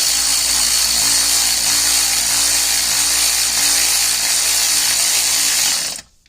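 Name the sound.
electric ratchet tightening engine header bolts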